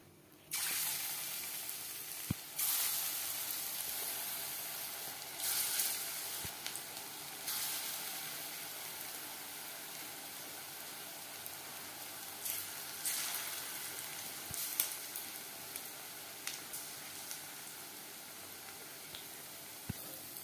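Chicken chops frying in refined oil at medium flame, a steady close sizzle running throughout with a few brief louder crackles and occasional light clinks, no talking.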